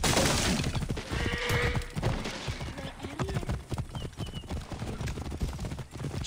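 Horse hooves clip-clop in a race in Assassin's Creed Origins on PS5, a quick run of close, repeated hoofbeats over a busy background of game ambience.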